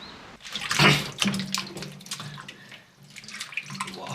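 Fresh shishito peppers being rinsed under a running tap, a steady close stream of water splashing over them with a brief louder gush near the start, and no talking.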